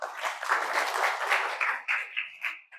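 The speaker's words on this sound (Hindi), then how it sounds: "वेरी गुड, तालियां।" A classroom audience of trainees applauds at a career guidance seminar at a government ITI, steady group clapping that thins into a few separate bursts near the end.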